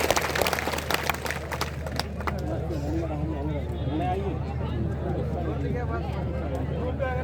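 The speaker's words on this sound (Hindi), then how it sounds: "एक बार रानीवाड़ा विधानसभा के लिए जोरदार तालियां होनी चाहिए।" At a political rally in Bhinmal, a crowd bursts into dense clapping that fades within about two seconds, giving way to a loudspeaker voice addressing the gathering.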